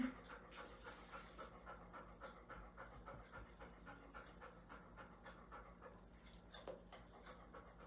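A dog pants rapidly and steadily, a quick rhythmic breathing close by, continuing throughout with faint background noise.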